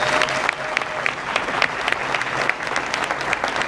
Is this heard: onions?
no